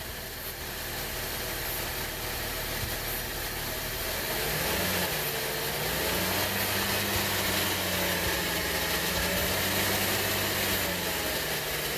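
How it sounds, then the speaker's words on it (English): The engine of an overheating 2008 Buick Enclave is revved gently, its pitch rising and falling under a loud, steady broadband hiss. "Can you go ahead and rev it a little bit while he does this?"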